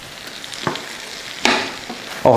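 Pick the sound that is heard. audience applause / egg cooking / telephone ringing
egg cooking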